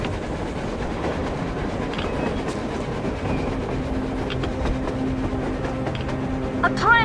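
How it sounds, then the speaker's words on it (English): A train rolling across the surface in the video game Metro Exodus, a steady rumbling rail clatter that fills the scene from start to end, with brief whistle-like tones near the close. "A train! A damn train on the surface!"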